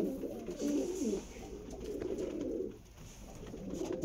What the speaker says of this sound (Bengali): টপ ক্লাস পায়রা আছে আন্ধ্রা লাল ফুল